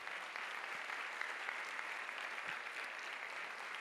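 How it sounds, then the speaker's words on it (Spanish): Steady, moderately distant applause from a crowd at a charismatic church assembly, a continuous wash of clapping without pauses or voices. "Dele fuerte ese aplauso al Señor."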